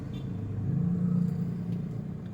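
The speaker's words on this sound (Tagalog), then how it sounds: "Medyo traffic ulit." Road traffic near Kapitolyo rumbles steadily, with a car engine droning close by and a low hum that swells midway and then settles, and no voices.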